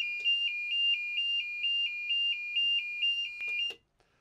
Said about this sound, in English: that audible alarm that's able to be triggered via the communication from the battery